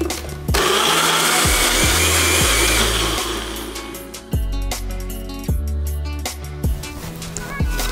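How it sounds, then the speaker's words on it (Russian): A kitchen blender whirs loudly and close up as it purees a beet salad with about 200 ml of water, starting with a long continuous run and then switching to a series of short, rhythmic pulses. "Иду блендерить."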